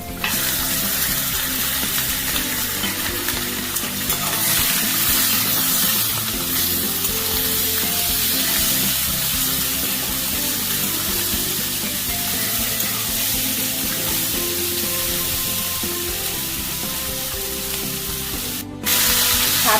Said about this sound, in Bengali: মাটনটা আমি দিয়ে দিচ্ছি